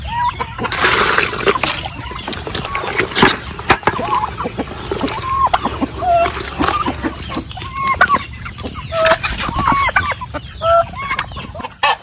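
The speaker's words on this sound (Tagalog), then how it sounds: "Kain na ng ating mga alagang manok" Raised chickens cluck and chatter steadily up close while feeding, with scattered pecking and scratching noises throughout and no talking.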